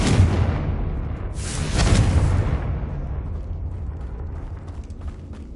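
The Confringo fire spell in Hogwarts Legacy detonates in a loud, rumbling blast that swells early, then trails off into a long, fading roar.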